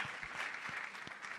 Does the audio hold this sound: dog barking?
no